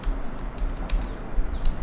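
Keyboard typing into a web browser's address bar on a computer: a few sparse, soft clicks spread over under two seconds, with no talking.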